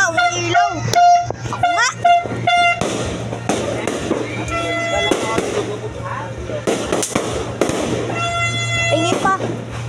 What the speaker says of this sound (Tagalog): Pakibigay mo nga akong maliit ng paputok.